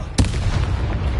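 Confringo blasting spell going off in the Hogwarts Legacy video game, a single sharp, close boom that bursts out suddenly and then fades into a low rumbling tail.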